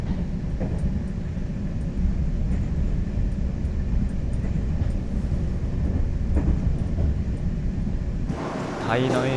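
A train pulling into Tainan station in Taiwan, a steady low rumble with faint rhythmic clatter throughout, ending in a brief burst of brighter sound near the close.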